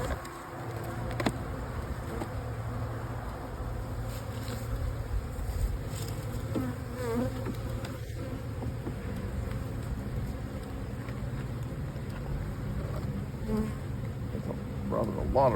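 Honey bees buzzing around brood frames of an open hive being split, a dense steady hum close by with individual bees droning past.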